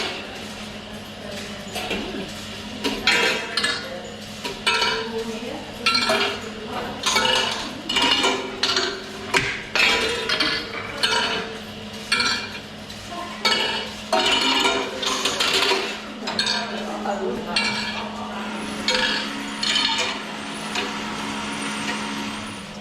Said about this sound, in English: there's a marble race set.